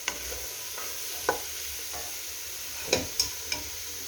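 Finely chopped leeks sweat over medium heat in a pan, a soft steady hiss with a few light clinks of a utensil stirring, close and alone without talk.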